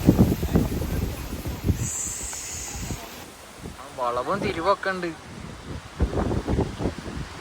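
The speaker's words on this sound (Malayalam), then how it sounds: "ഏതാ കാറ്റ്?" Wind gusts outdoors on a trip in Palakkad, buffeting the microphone in loud low rumbling bursts at the start and end, with people talking in between.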